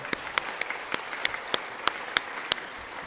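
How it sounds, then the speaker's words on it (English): Scattered, sparse claps from an audience in a chapel, about ten separate sharp hand claps at uneven intervals rather than a full ovation, moderately quiet with a hushed room between them. "Can everybody give a silent clap or a loud clap for Mr. Gerber?"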